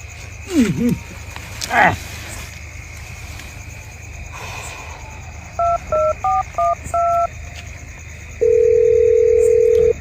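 A telephone call being placed: a quick run of six keypad dialing beeps, then a loud steady tone holds to the end, after faint rustling and clicks.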